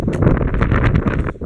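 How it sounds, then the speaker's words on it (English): Wind buffeting an outdoor microphone at a forge, a loud, low rumbling roar in uneven gusts for a brief moment. "Ah, that's way more windy."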